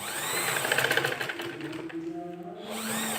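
A sewing machine stitching a curved fabric section, a close whirring motor with rapid needle chatter that slows and changes pitch over a few seconds, heard on its own.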